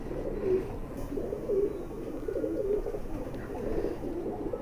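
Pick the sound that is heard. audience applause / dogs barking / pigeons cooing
pigeons cooing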